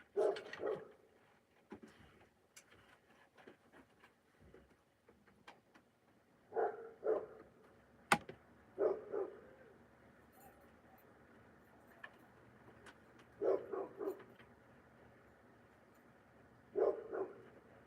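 A dog barks in short clusters of two or three at a time, spaced several seconds apart and sounding somewhat distant, with faint background noise and occasional small clicks between the barks.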